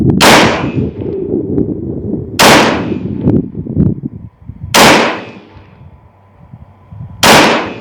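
An airgun, either a T50 Extreme or a BINTAC T9 in 9mm, is fired four times at a target at steady intervals. Each sharp, loud report is close by and is followed by a ringing metallic clang and brief echo.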